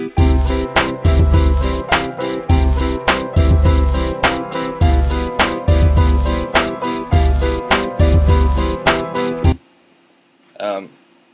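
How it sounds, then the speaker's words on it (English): In Ableton Live, a demo audio clip plays with a drum loop built on a custom drum rack: a steady, punchy rhythmic beat with repeating kicks for about nine seconds, then an abrupt stop followed by a brief voice. "this is just an audio clip that I pulled in, and a drum loop done on a drum rack that I made"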